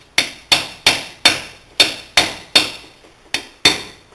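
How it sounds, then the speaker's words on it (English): A hammer strikes a nut to drive the axle back into a 2003 Arctic Cat 400 Automatic ATV, nine sharp metallic blows at a fairly even pace, close and ringing briefly, with no talk. "use a hammer on the nut to hammer the axle back in"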